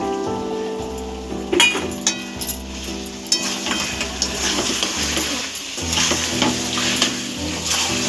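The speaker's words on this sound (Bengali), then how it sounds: "ভালো করে একটু নাড়াচাড়া করে দেবে।" Chicken curry with chilli and turmeric powder, tomato and water being stirred in a pan: rhythmic spoon scrapes and a few clinks over a constant sizzle, close and fairly loud.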